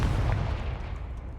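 A Confringo blasting curse explodes in the Hogwarts Legacy video game: one loud, deep boom hits at once and rumbles away over about a second and a half.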